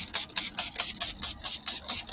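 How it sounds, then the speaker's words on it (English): A handheld spray bottle pumped repeatedly to wet a craft surface, giving a steady run of about ten quick, close, crisp spritzes in an even rhythm, with no voices. "my hand's getting tired of spraying now"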